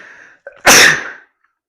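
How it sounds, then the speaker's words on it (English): A single loud sneeze bursts out after a short breathy intake, sharp and close, in a gym between sets of good-mornings, partly muffled by a hand over the mic. "I gotta sneeze."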